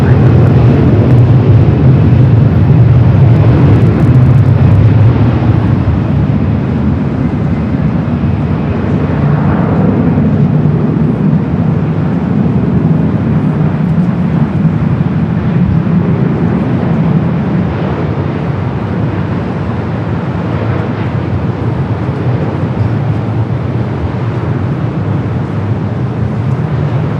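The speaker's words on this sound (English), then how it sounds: "this is the Dreamliner coming from Tokyo Haneda" A Boeing 787 Dreamliner arriving from Tokyo Haneda at LAX, heard as a steady, loud jet roar with broad low rumble and some wind buffeting, holding fairly constant for the whole stretch without speech.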